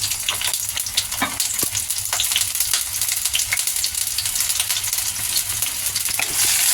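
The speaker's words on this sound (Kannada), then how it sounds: "ಈಗ ಎಣ್ಣೆ ಬಿಸಿ ಆಗಿದೆ ಈರುಳ್ಳಿ ಹಾಕ್ತಾ ಇದ್ದೀನಿ" Onions frying in three tablespoons of hot oil for vegetable fried rice, a loud, continuous close-up sizzle scattered with sharp crackling pops throughout.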